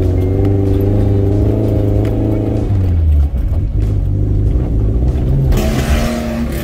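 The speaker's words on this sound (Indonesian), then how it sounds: "Gerung-gerung-gerung langsung ngebut ke depan." An off-road car engine on a muddy track roars and revs hard and loud and close, holding a steady heavy growl that drops in pitch partway through before climbing again, with no talk over it.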